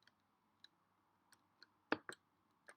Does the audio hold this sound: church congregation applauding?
no